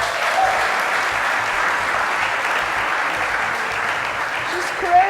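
Studio audience clapping for a female fashion entrepreneur who makes handcrafted bags, a dense, even applause held at steady loudness from start to finish, alone without voices.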